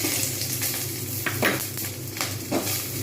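Onions frying with black cumin seeds (nigella) in a pan, a continuous close sizzle broken by a few sharp scrapes and knocks of a spatula stirring against the pan, with no voices.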